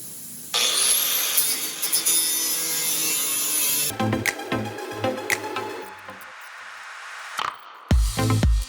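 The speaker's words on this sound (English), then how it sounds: "we're going to cut off some of the flange here" Power tool cutting the sheet-metal flange on a 1967 Mustang's rear body, a loud sustained grinding whine that then breaks into choppy bursts and scrapes, ending with short harsh cuts.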